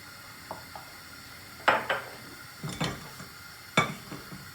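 Soft sizzling of dried mint frying in a little hot oil for bulgur soup, broken by several sharp clinks of a metal utensil against a pan.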